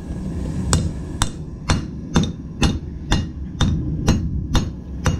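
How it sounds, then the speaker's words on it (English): A rounding hammer strikes metal in sharp, ringing blows about every half second, nine loud, evenly paced hits close by with no talking. "Rounding hammer."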